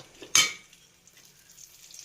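A spoon stirs a fish pickle mixture in a pan with one short, sharp scrape and clatter close by, followed by near silence with faint sizzling.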